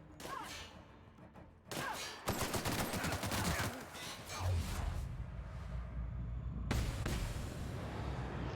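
Gunfire in The Outer Worlds erupts after a brief lull into sustained rapid bursts of shots with heavy thuds. It fades to a lower rumble, then swells again with another sharp volley.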